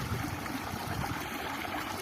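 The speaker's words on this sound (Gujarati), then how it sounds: "અહીંયા આપણું જાય પાણી" Irrigation water runs steadily into a cumin field in a Gujarat village, a continuous soft rushing and trickling wash heard alone at low level.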